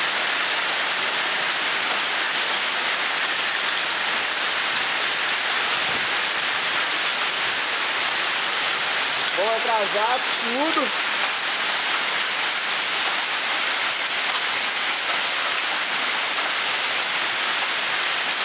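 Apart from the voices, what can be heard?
hail falling in Japan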